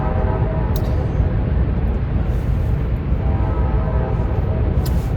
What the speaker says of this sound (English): And the train comes through a lot too.